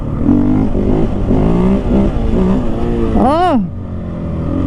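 A 2023 KTM 500 EXC-F dirt bike accelerates up through the gears, its close, loud engine note climbing in pitch and cutting between shifts, ending in a sharp rising rev before it settles.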